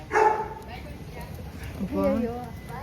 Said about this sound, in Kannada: ಇಲ್ಲಿ ತುಂಬಾ ನಾಯಿಗಳಿದಾವೆ ಗಾಯ್ಸ್.